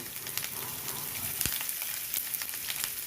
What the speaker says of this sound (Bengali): এর মধ্যেই একে একে আমি টুকরো পেঁয়াজগুলো দিয়ে দেব